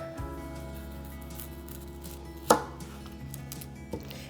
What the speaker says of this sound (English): And I'm going to cut that off.